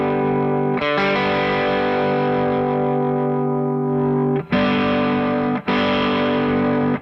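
An electric guitar played through an overdrive/boost pedal set to add bass, held distorted chords sustaining loudly and then restruck twice near the end, with no voices.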